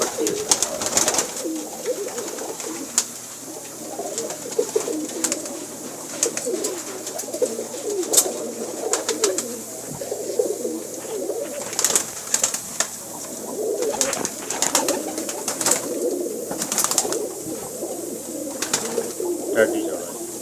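Kala Cheena pigeons coo steadily in soft, overlapping calls with other birds calling now and then, a continuous moderately close flock sound with brief sharper accents throughout.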